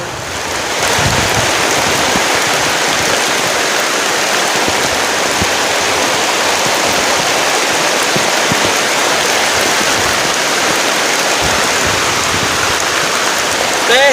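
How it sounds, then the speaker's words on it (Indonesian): Heavy rain pouring down during a storm at a camping shelter, a loud continuous hiss of dense drops close around, with faint talk beneath. "hujannya besar banget"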